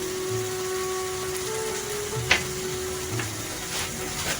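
Spices sizzle and fry in a pan while being stirred, a steady close hiss under occasional scraping and light clanks of the spoon against the pan.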